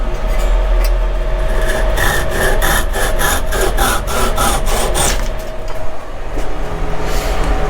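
Quarter-inch wooden dowels are sawn off by hand with a run of quick, rasping back-and-forth strokes, loud and close, easing off toward the end.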